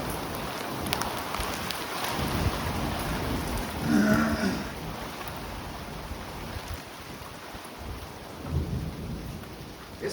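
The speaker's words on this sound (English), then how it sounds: "This is definitely a strong thunderstorm here." Heavy rain pours steadily through a strong thunderstorm, a dense hiss with low rumbling thunder swelling around the middle and again near the end.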